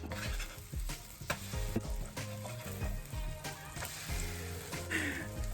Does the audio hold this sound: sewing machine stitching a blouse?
no